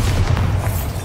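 A Bombarda blasting spell explodes in Hogwarts Legacy, heard as a loud, continuous low-frequency boom rumbling throughout the short moment.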